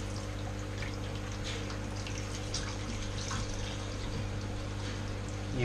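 Tap water runs and pours through the tube of an aquarium filter during cleaning, a steady gurgling flow that continues without break over a low constant hum, moderately quiet.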